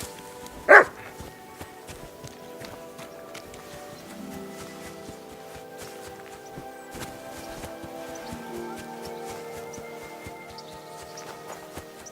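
In Kingdom Come Deliverance 2 a dog gives one short, loud bark near the start, then only game music and ambience follow.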